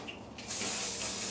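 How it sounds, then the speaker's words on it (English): Hairspray hisses from an aerosol can aimed at the roots of parted hair, a close, steady spray that runs for about a second after a brief lighter puff. "spray hairspray where we pull it apart"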